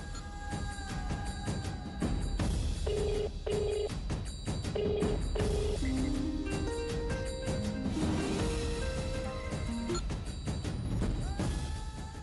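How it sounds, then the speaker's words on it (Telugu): Telephone tones from a Telugu TV serial scene: a series of separate dialing beeps in a rhythmic run, some at stepped pitches, over steady background, ending with ringing, with no speech. "సాకేత్కి ఫోన్ చేసి చెప్దాం."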